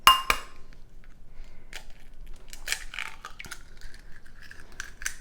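An egg is cracked into a bowl: a sharp tap on the rim, then quiet shell crackle, small clinks and a bit of scraping as it is worked over, close up with no talking.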